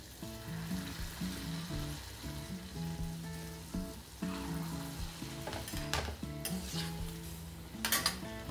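Wheat flour and jaggery gulgule deep-frying in hot oil, a steady bubbling sizzle with occasional clinks and scrapes of a spoon against the pan, close up and continuous with no voices.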